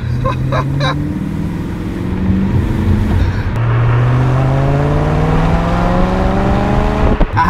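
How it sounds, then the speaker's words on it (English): BMW M3 E92 V8 engine rumbling close by, then revving in repeated rising sweeps as the pitch climbs and drops again. "I can just feel the V8 rumble."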